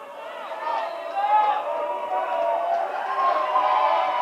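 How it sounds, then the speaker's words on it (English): A crowd at a high school basketball game roars and chatters steadily, a sustained wall of voices to distract a free-throw shooter, with an announcer talking over it. "Crowd making the noise"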